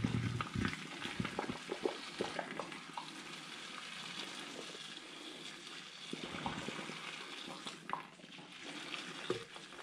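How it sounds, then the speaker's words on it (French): Boiled cauliflower drained through a skimmer like pasta for a gratin: continuous close wet sloshing and trickling of water with scattered scraping clatters against the pot, no voices. "on le passe dans l'écumoire comme des pâtes, hein, comme des pâtes. Au moins ça enlève toute l'eau."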